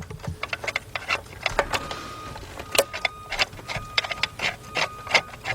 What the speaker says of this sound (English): I'm taking the bolt out, being very careful not to drop it.